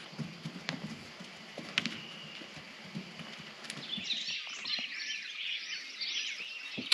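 Hooves of about six horses clop in scattered, uneven steps at a middle distance around 5 a.m. in Mexico. Birds chirp in the background as the steps continue.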